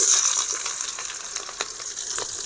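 Chopped onions frying in hot oil in a pan with bay leaf, cinnamon and cloves for prawn kurma, a bright, close hiss and crackle with a few soft stirring taps.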